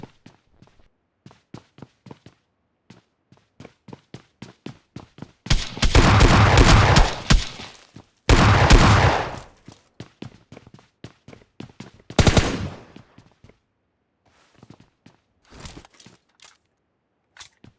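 Rapid gunfire from S12K shotguns in PUBG Mobile Lite: sharp single blasts spaced across the clip, with two dense sustained bursts of fire in the middle and a few further shots near the end, loud and close with no talking.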